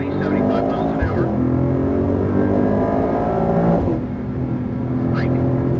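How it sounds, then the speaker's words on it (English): Mercedes-AMG car accelerating hard on the Circuit of the Americas race track, a loud close engine drone climbing steadily in pitch, briefly easing near the end before pulling again. "let's accelerate up, boys. We get about 70, 75 miles an hour"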